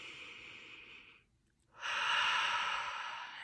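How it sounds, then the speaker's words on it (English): A slow, deep breath during a guided beach meditation, a soft, close airy exhale fading into a brief pause before a stronger, fuller inhale, with no talking. "Take a deep breath in"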